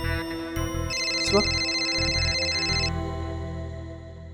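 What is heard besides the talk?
phone ringtone ringing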